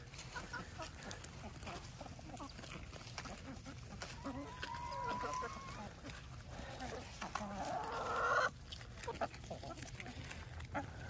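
Chickens cluck and squawk in bursts, fairly close, with a louder flurry near the end and some background farmyard noise.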